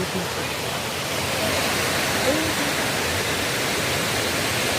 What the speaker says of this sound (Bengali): প্রকৃতির মধ্যেখানে এই ঝর্ণা